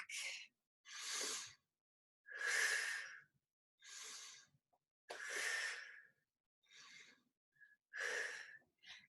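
Slow, deep breathing during a standing rib cage exercise in a flexibility class: eight separate breaths alternate inhale and exhale in a steady rhythm, close and fairly loud, with silence between them and no talk.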